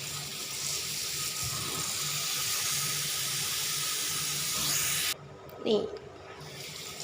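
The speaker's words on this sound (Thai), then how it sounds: "ใบมะกรูดกับหัวจังไคเขาก็มาล้าง" Kaffir lime leaves and lemongrass are rinsed under running water while preparing a Thai dried-fish curry with sweet leaf; a steady hissing stream runs for about five seconds and then stops, followed by a brief spoken word.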